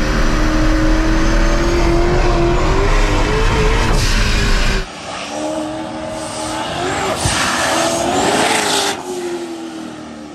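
An 1100hp ProCharged C7 Corvette launches from a dead stop at the Freedom Factory, its engine roaring loud and rising in pitch through the gears, heard close from inside the car, with a brief dip before the revs climb again.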